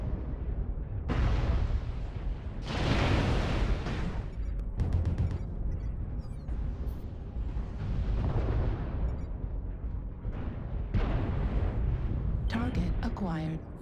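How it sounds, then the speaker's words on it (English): Heavy artillery strike explosions in a mech combat video game, several deep rolling booms arriving in bursts over a continuous rumble of battle noise, loud and close. "Artillery strike activated."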